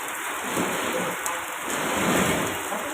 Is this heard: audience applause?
no